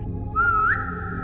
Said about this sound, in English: Whistle, please.